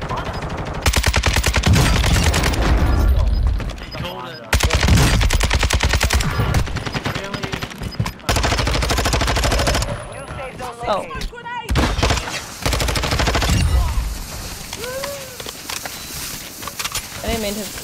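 Close-range automatic gunfire from nearby players in a shooter video game, long rapid bursts separated by brief pauses, loud and sustained, with someone talking in between.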